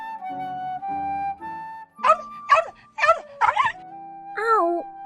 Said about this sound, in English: The hunting dog that went out for hunting came back with its leg hurt.